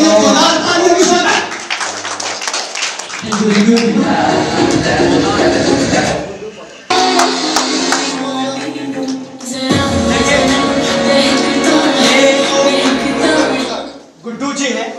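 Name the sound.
audience applause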